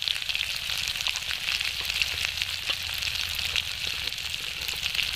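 Ginger-garlic paste, turmeric and chili powder sizzle steadily in a hot pan with oil, a dense continuous crackle and hiss at close range with no voices.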